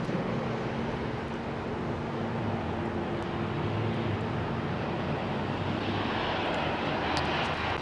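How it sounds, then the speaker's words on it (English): A GE90 turbofan on a Boeing 777 spools up at an airport, a steady broadband roar with a low hum that stays loud throughout, and a faint whine rising toward the end. "777. That's a GE90 starting up there."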